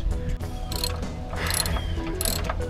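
Ratchet wrench tightening a bolt on an RV slide-out motor shaft, a close run of quick metallic ratcheting clicks in short bursts over a few seconds.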